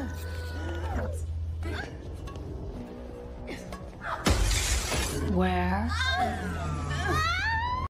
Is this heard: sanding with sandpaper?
no